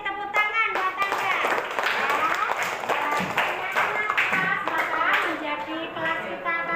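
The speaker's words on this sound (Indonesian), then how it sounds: "tepuk tangan buat Angga" Classroom applause, many hands clapping in a dense, steady patter throughout, with children's voices mixed in.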